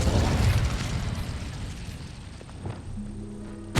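An Incendio fire spell is cast in Hogwarts Legacy on PS5, a loud roaring burst of flame at the start that fades into a crackling rumble, followed by a few faint tonal game chimes near the end.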